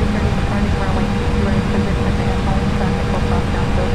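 A loud, steady engine roar and broadband rumble from an aircraft landing at Stuttgart Airport in Germany fill the whole stretch without letting up.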